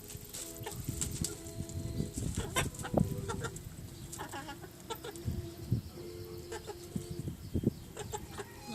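Chickens and a rooster cluck in a busy, close cluster while eating papaya, with irregular bursts of clucking and pecking taps continuing throughout.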